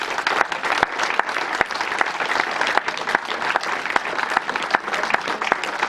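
A French community gathering's audience applauds steadily, dense clapping with sharp individual claps standing out, sustained and fairly loud throughout with no talk over it.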